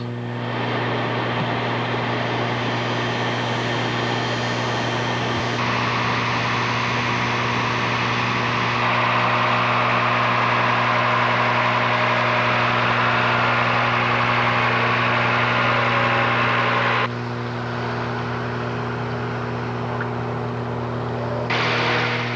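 A heavy tractor engine runs steadily at a low idle-like rumble throughout, close and loud, with a constant droning hum and no voices.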